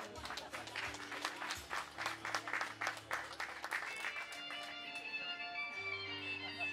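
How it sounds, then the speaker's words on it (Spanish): Applause from guests at a quinceañera celebration, rhythmic clapping in bursts over sustained background music, moderately near and fairly quiet overall. "Un aplauso para ellos, por favor."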